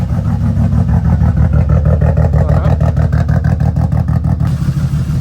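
BMW E36 engine with no O2 sensors and a suspected blown head gasket, running steadily at close range with a rough, pulsing exhaust note and a slight leak, loud and continuous with no talking.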